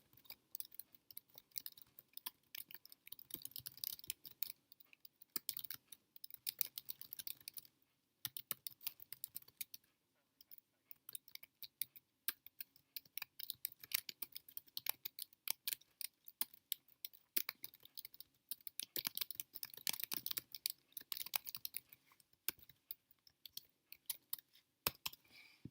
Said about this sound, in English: Once I learn how to type, we'll be good to go.